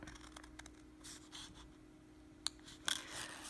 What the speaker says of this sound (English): I'm going to take my scissors and cut that shape out